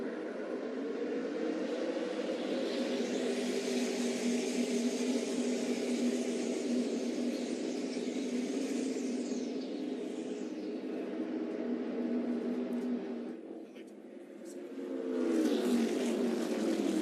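ARCA stock cars at Pocono Raceway, a steady engine drone of the field running together at moderate distance, sustained for most of the stretch before dipping and swelling again as cars pass.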